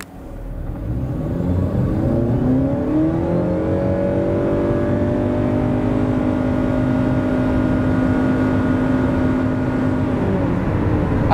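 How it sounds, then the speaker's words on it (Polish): A 2023 Honda CR-V 2.0 hybrid accelerates from standstill to 100 km/h, its engine note rising steadily into a sustained loud drone heard from inside the cabin. "tak samochód przyspiesza od 0 do setki"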